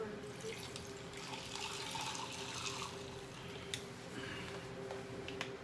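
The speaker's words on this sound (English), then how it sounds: "Pour some water in there." Water pours steadily into a cup, a continuous trickling splash that runs the full length at moderate level with faint background voices.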